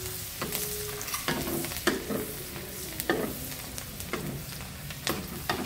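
Plenty of garlic sizzles in a hot pan while a utensil stirs and scrapes it; steady close frying hiss broken by repeated rhythmic scraping strokes, no speech.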